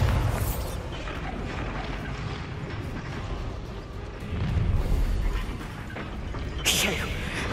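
Bombarda explosion spell in the video game Hogwarts Legacy, played on PlayStation: deep, rumbling blasts under continuous game noise, with a swell of low booming midway and a sharp burst near the end.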